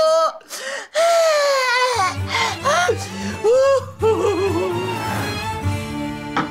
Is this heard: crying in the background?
yes